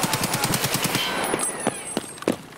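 Rapid automatic gunfire in Escape From Tarkov at the Interchange map, a fast burst of repeated shots up front followed by a few spaced single shots, loud and close.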